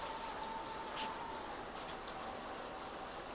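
Heavy rain falls steadily outside a home, a faint, continuous broadband hiss with no voices over it.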